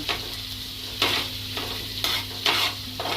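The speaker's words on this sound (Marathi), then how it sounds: "लसूण आणि मिरची एकदम व्यवस्थित फ्राय झालेलं आहे." Garlic and chillies frying in a pan make a steady close sizzle, with several regular scraping strokes of a spoon stirring through them, no voices present.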